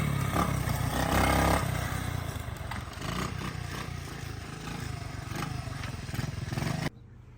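A fuel-injected 2021 Honda CRF110 dirt bike starts from cold and runs with a loud, close, buzzing single-cylinder roar that holds steady, then cuts off abruptly near the end.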